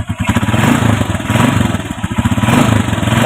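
A TC150 motorcycle engine, troubleshot over a weak battery, runs loud and close in a steady, throbbing, slightly uneven idle with a pulsing rhythm.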